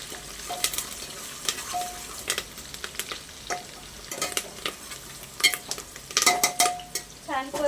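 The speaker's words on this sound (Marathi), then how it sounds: "सुक्या मिरच्या घालूयात कढीपत्ता आणि हे सुद्धा असं चांगलं एक मिनट एक दोन मिनिटासाठी परतून घेऊया" Dried red chillies and curry leaves sizzle and crackle in hot oil, with a spoon stirring and scraping against the pan in bursts throughout.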